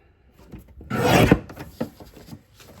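Cardstock is sliced on a paper trimmer: one loud rasping cut of about half a second, followed by a few softer scraping and sliding sounds as the paper is handled, close up and without speech.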